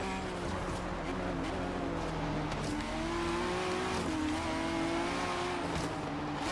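The turbocharged Radical RXC engine in Forza Horizon 3 drones steadily at racing speed, its pitch rising and dipping through gear changes, loud and continuous with faint tire noise beneath.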